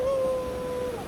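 A dog in a village gives a single drawn-out, whining howl-like cry at newcomers, fairly close and steady for about a second over faint background noise.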